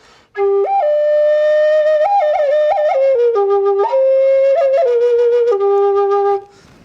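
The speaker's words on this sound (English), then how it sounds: "This is a double flute here." A bright, breathy double flute plays a continuous flowing tune with quick ornamental turns and a steady droning undertone, loud and close.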